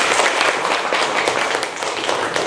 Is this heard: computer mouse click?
no